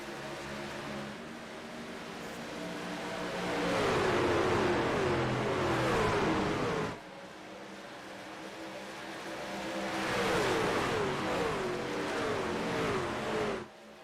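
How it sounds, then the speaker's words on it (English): Race trucks roar past at Las Vegas Motor Speedway in two loud swelling passes, the engine note rising as each pack closes in and then cutting off sharply as it goes by. "There's 8 trucks that are gonna take the green here with 5 laps to go from stage 2, racing once again in Sin City."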